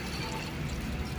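Water poured and splashed over a car engine bay during a rinse after cleaning, a steady continuous rush of liquid close by, fairly quiet throughout with no voices.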